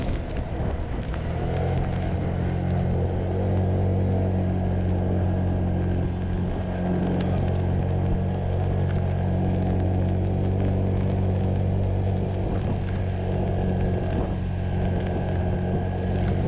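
A motorbike climbs a steep hill on the road to Puncak in Bogor, its engine holding a loud, steady, droning pull throughout with wind rush and no speech.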